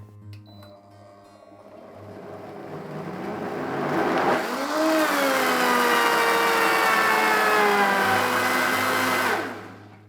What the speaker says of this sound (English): Now we're going to blend this up.